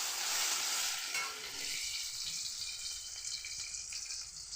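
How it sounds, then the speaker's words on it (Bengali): Chopped tomatoes hitting hot oil with frying cumin seeds in a pan, a loud hissing sizzle that bursts at the start and then settles into a steady crackle, with no voices. "এবার আমি দিয়ে দেবো এই টমেটো যে কুচি রেখেছি টমেটোগুলো।"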